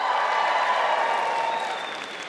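An audience fills the room with dense applause and cheering, a steady wash of clapping that fades slightly toward the end.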